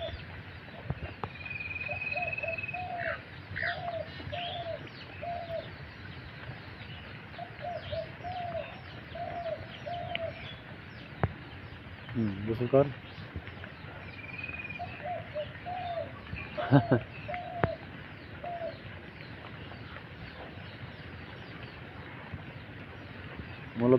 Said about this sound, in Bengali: ওই আমার ঘুঘু পাখি ডাকতেছে